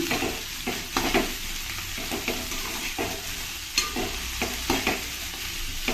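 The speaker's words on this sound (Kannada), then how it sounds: "ಎಣ್ಣೆಯಲ್ಲಿ ಸ್ವಲ್ಪ ಪಡವಲ್ಕಾಯಿನ ಒಂದು ಎರಡು ಮೂರು ನಿಮಿಷ ಸ್ವಲ್ಪ ಚೆನ್ನಾಗಿ ಫ್ರೈ ಮಾಡ್ಕೊಳ್ಳೋಣ" Snake gourd sizzles in hot oil for seasoning, with a steady frying hiss broken by regular scraping and clacking strokes of a stirring spoon in the pan.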